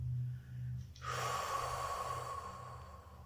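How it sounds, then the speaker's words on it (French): A long, deep exhale during a guided forest-walk meditation: a soft breathy rush of air starts after a brief pause and continues steadily, close and gentle, over a quiet low background hum. "Je fais sortir tout l'air de mes poumons."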